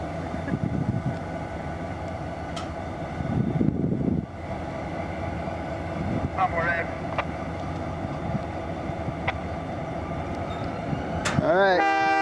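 Sound-equipped model train locomotives run on a layout recreating prototype operations at Castle Hot Springs, with a steady mechanical rumble and a brief horn-like tone near the end, heard under ongoing talk.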